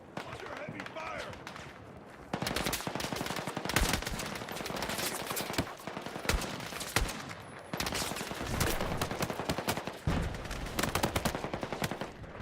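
Sustained heavy gunfire in Battlefield 6: dense automatic bursts and overlapping shots crackle loudly and almost without pause, with voices calling out over the barrage.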